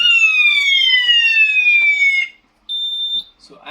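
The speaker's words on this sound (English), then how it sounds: "as soon as you press the manual call point, the hooter gets activated" A conventional fire alarm hooter, set off by pressing a manual call point, blares loud and close with a falling electronic wail for about two seconds, stops, then gives a brief steady tone before falling quiet.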